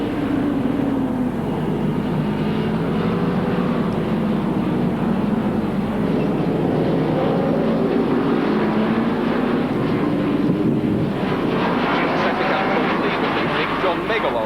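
Racing motorcycles roar past on the circuit during a 1980 two-hour Castrol endurance race at Calder, a steady loud engine drone throughout, with a commentator talking over it.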